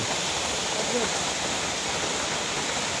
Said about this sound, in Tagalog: Welcome to Green Valley Waterfalls Junior Shower.